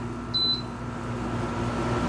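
A VEVOR tower fan, an oscillating quiet floor fan, runs at medium speed with a steady, even whoosh of airflow and a low hum, joined briefly by a short electronic beep near the start.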